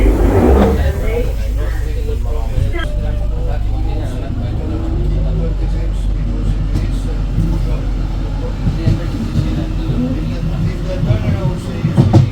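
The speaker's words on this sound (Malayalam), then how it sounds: "ഓക്കെ, ഇത് അടുത്ത ട്രെയിൻ വന്നു." A train pulls into a station, a loud, rumbling roll of wheels and carriages running steadily close by, with people talking over it.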